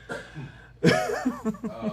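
A sudden harsh cough, followed by a few choppy chuckling breaths, close and moderately loud.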